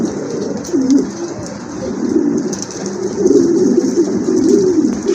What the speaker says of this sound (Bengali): একজোড়া লক্ষা কবুতর, একদম ফ্রেশ কবুতর